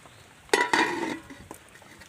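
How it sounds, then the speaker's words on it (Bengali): A lid is set onto a cooking pot of curry with added water, giving a brief clatter and a second metallic clink, followed by a short fading rattle in a quiet kitchen. "এবার আমি চাপা দিয়ে ভালো করে ফুটিয়ে নেব"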